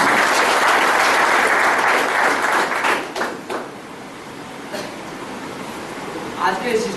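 Loud applause from a seminar audience in Kondagaon, Chhattisgarh, a dense burst of many hands clapping that fades after a few seconds into scattered claps and murmur, with a voice speaking over it.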